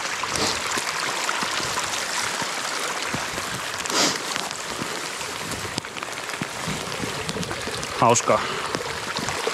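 A stream flows along a hiking path in cold, gusty weather, a steady rushing wash throughout with a person speaking briefly over it.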